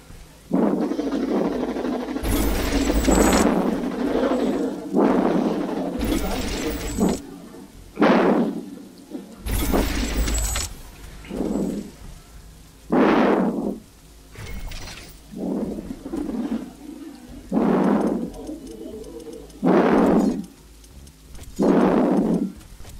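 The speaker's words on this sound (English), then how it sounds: "It's raining. It will decrease the output from solar panels until it stops." Rain and thunder in the video game Riftbreaker, with a run of loud, booming thunder crashes and rumbles rolling in every second or two over a soft rain hiss, and no talking.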